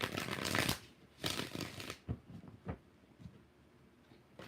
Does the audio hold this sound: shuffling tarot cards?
yes